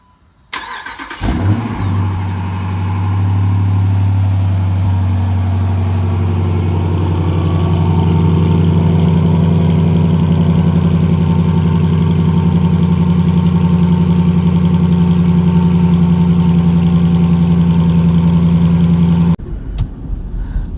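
A 2013 Jeep Grand Cherokee with a Corsa performance exhaust starts by remote, cranking briefly before settling into a loud, steady, deep idle that holds close and unbroken for about twenty seconds before cutting off.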